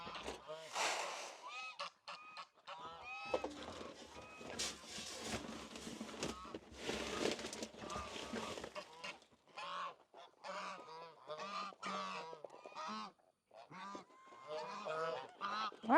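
A flock of domestic geese honks loudly and almost continuously at close range by a pasture pond at feeding time, with overlapping calls that rise and fall in bursts.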